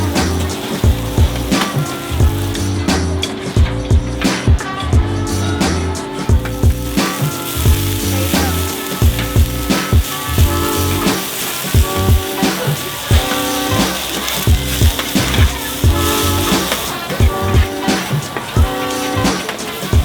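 A busy cooked food stall at a market in Phnom Penh, Cambodia, sizzles loudly and continuously, with rhythmic clattering and chopping knocks over a background of background music.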